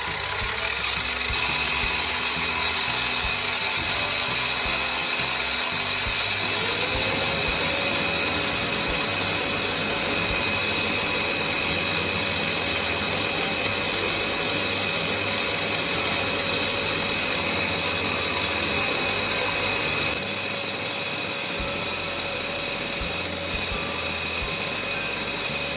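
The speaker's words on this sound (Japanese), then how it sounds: "スタビライズドウッドに穴を開けます。" A power drill bores holes in stabilized wood for a knife handle. It whines steadily and continuously, its pitch rising and then holding over a constant background motor hum, with no voices.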